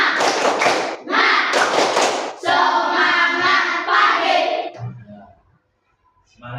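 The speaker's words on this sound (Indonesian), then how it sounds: "Mari kita tepuk semangat." Classroom children do the 'tepuk semangat' clapping chant during an ice-breaker, with a burst of rhythmic claps and thumps under loud chanted voices, then a sustained group chant that fades to near silence.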